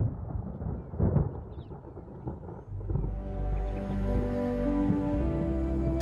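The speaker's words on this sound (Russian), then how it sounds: "В небе над Ботсваной сгущаются грозовые тучи." Thunder from gathering storm clouds over Botswana, a deep distant rumble that swells and fades under a soft wash, later joined by a sustained low orchestral drone.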